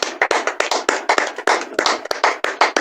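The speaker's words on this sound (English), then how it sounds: "Let's clap for the Most Highest" A group of people clapping in praise, a steady burst of close, lively handclaps with no pauses.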